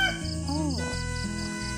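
Roosters crow somewhere behind an indoor crochet session, one drawn-out rising-falling call standing out over a steady hum and other faint bird sounds, no speech.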